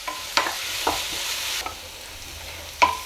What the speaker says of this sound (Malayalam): എന്നിട്ട് സവാളയൊന്ന് വാടി വരട്ടെ